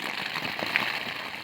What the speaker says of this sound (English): It is still raining and at times quite bad.